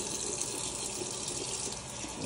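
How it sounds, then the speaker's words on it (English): Warm tap water runs steadily as fingers are rinsed under it, a continuous close gush with no pauses. "I'm rinsing my fingers off."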